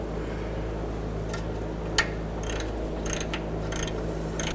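Ratchet wrench loosening a heat-freed rusty nut on the front upper control arm of a 2000-06 GMC Yukon, giving faint, sparse clicks and a couple of sharp ticks over a steady background hum.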